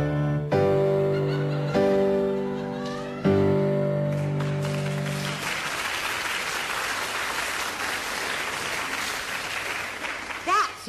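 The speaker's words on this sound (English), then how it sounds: "he puts three crashing chords at the end of this" Three loud crashing orchestral chords close out a passage from Verdi's Nabucco, spaced evenly, the last one held longer, followed by a swelling round of audience applause.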